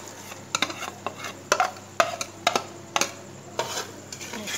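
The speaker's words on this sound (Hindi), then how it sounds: "अब मैं शिमला मिर्च डाल रही हूँ" Chopped capsicum tossed into a hot pan for vegetable macaroni and stirred, giving repeated sharp scrapes and clinks of a spoon against the metal every half second over a low sizzle.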